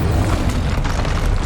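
Blasting spell explosions go off in Hogwarts Legacy, giving a loud, dense roar with deep booming rumble that holds steady for the whole moment.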